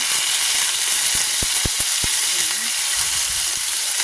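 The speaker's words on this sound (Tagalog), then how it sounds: "Nag-saute na tayo dyan ng bawang sibuyas." Garlic and onion sauté in a hot pan with a steady loud hiss and sizzle, broken by a few sharp clicks or taps on the pan midway, close-up and without speech.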